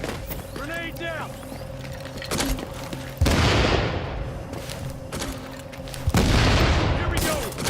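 In the video game The Division, two heavy booming grenade explosions cut through sustained gunfire. Voices talk over the combat throughout.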